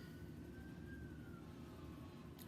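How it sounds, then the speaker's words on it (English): A faint siren drifts in from far away, its thin tone slowly wavering beneath a constant low background rumble. "Now there's sirens going."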